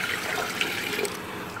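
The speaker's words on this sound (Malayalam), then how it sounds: "റൈസും ഇട്ടു, പിന്നെ നമ്മളതിലേക്ക് കുറച്ച് വെള്ളം ഒഴിച്ച് ആവശ്യം" Water pours steadily into a pot of yogurt soup with rice, a continuous close splashing stream with no talk over it.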